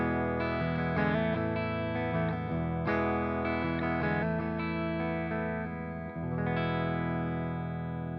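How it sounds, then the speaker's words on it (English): Sustained electric guitar chords played through a Jam Pedals Rattler mk.2 distortion pedal at low gain, lightly driven and compressed like an underdrive, smooth and even in level, with no voices. "it's acting like a kind of underdrive pedal where it's just kind of compressing"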